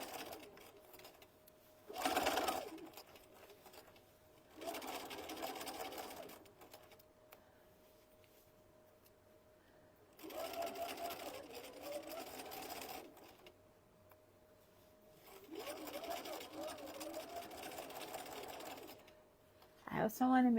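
A sewing machine stitches a fabric stuffed chicken in several bursts of steady whirring, each a few seconds long with quiet pauses between, close and clear.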